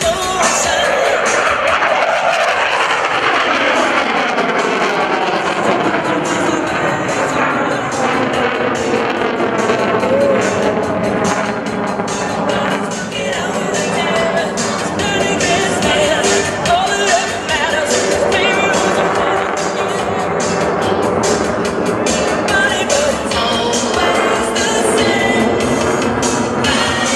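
An F/A-18C Hornet fighter jet flies a pitch rate demonstration at an airshow, producing a loud continuous roar with a sweeping whine that rises and falls as the aircraft passes.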